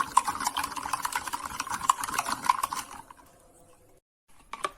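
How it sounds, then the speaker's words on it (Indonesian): Sugar and salt being stirred into water in a bowl for bread dough, heard as close, rhythmic clinks and swishes of a spoon that pause briefly before resuming. "Ini kita aduk sampai gulanya larut."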